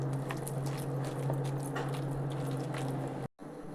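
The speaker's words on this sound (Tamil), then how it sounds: "இதில் லைட்டாக தண்ணி தெளிச்சுட்டு மிக்ஸ் பண்ணிக்கிறேன்" Onion bajji batter with a pinch of baking soda is mixed by hand after a light sprinkle of water, giving soft, wet squelching over a steady background hum before a sudden cut.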